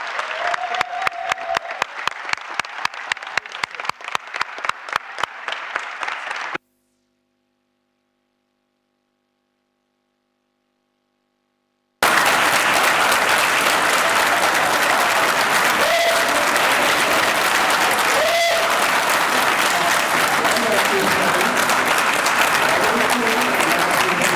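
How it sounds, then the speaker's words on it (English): Plenary session audience breaking into applause: rhythmic clapping at first, then a few seconds of silence, then a loud, full, sustained wave of crowd applause with some cheering mixed in. "Now, that sounds like an applause"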